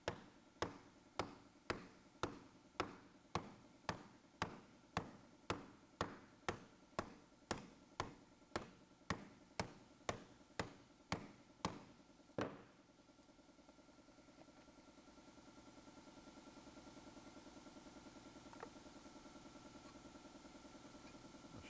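A hammer taps a steel patch panel for a 1933 Ford fender in an even, evenly spaced series of about twenty sharp metallic knocks. The tapping stops midway, leaving a low steady hum.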